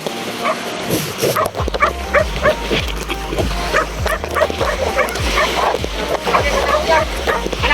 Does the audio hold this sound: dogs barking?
yes